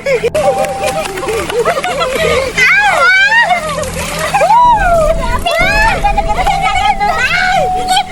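People, children among them, splash and slosh in water as they go for a swim. Close splashes come in bursts under loud, excited chatter.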